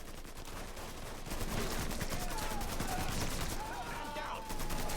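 Rapid machine-gun bursts and scattered gunshots fill a shootout in the video game Mafia III, dense and continuous for several seconds, with in-game voices underneath.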